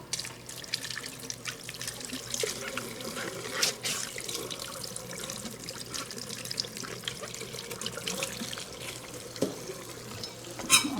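Tap water running steadily over a peeled onion at a kitchen sink, a constant splashing hiss with light knocks and handling sounds.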